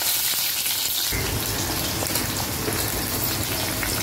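Onion halves and tomato drop into hot oil in a pan, setting off a loud, steady sizzle that begins about a second in and continues without pause, close and alone.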